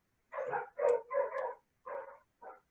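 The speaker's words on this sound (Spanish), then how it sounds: "¿Ustedes escuchan mucho el ladrido de los perros?" Dogs barking, five short bursts in an irregular run over a couple of seconds, moderately distant and fairly faint, with no talk over them.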